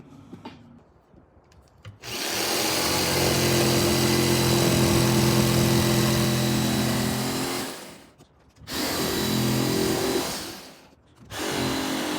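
A power saw rough-cuts strips of wood: a loud, close, steady buzzing roar runs for about six seconds, then two shorter cuts follow after brief pauses. No one speaks over it.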